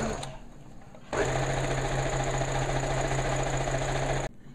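Sewing machine stitching around the edge of a store-bought dress being made into a bellydance costume; a steady, close motor whir with rapid needle chatter runs for about three seconds after a brief quieter start, then stops.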